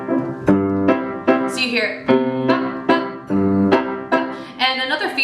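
Ukulele strums a waltz rhythm in 3/4 time at one chord per bar, in evenly spaced ringing chord groups played close and fairly loud, with a brief spoken phrase over the start.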